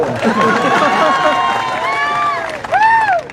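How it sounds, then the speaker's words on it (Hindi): A crowd at a political rally in Dausa claps and cheers, dense and loud throughout, with shouting voices and rising calls rising above the continuous clapping. "ताली तो बजाओ"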